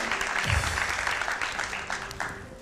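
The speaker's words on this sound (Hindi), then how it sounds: "तो सतरंगी के लिए बहुत सारी तालियाँ।" Studio audience applause during a television show episode, a full burst of clapping that starts loud and gradually tapers off over a couple of seconds.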